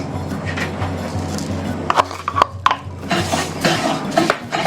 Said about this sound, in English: Add 1 cup of bulgur wheat.